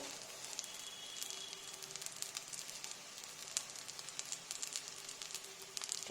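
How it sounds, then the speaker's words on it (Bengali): Chickpea soup simmering in a pot, giving a soft, steady sizzle with scattered small pops and crackles, quiet and close, with no talk. "তারপর আমি কিছুক্ষণ ফোটাবো"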